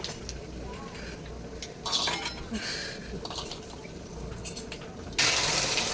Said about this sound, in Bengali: গাঠি কচুগুলো ভালো করে ও ধুয়ে নিচ্ছে সিদ্ধ করার পরেও আর একবার ধুয়ে নিচ্ছে